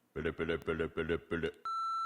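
A phone voicemail beep follows a brief burst of rapid muffled chatter, the clear steady electronic tone sounding at the end and holding on its own.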